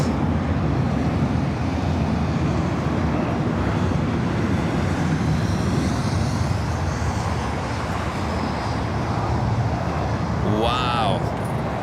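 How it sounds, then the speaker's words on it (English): An American Airlines Boeing 777-300ER lands on the north runway at LAX, a continuous loud jet roar filling the whole stretch, with a short chirp near the end. "An American 777-300ER landing on the north side"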